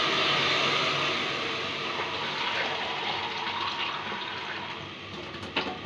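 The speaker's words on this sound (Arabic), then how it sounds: "انا هضيف له ميه كده تغطيه." Water pours steadily into a hot pot of caramelised doum, a continuous close gushing splash that stays loud and slowly tapers, alone without talk.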